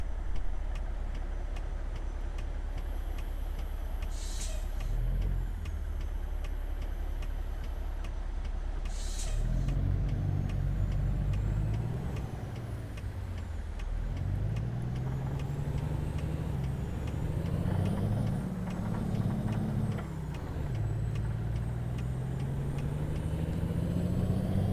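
Road traffic in American Truck Simulator: a steady truck engine drone with rising and falling revs, passing vehicles, and a couple of sharp hissing air-brake bursts early on.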